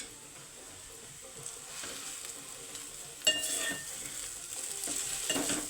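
A spoon stirring a spicy mixture frying in a pan, a soft steady sizzle with faint scraping and occasional clinks, quiet and close.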